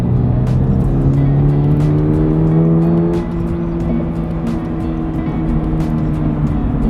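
A Subaru BRZ / Toyota GR86 sports car on a race track, its engine loud and close, climbing through revs in smooth sweeps, easing briefly, then pulling again.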